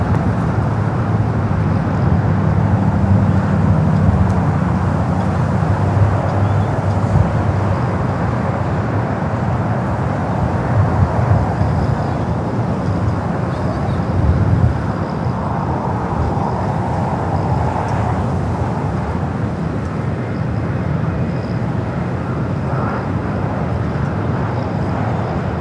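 A Japan Airlines airliner taking off at LAX makes a steady, broad jet roar that stays loud and sustained throughout, with no voices.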